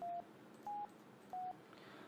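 Phone number dialed in the VGA Police Quest 1 video game, three short electronic dial tones spaced evenly apart over a faint background hum, no voices.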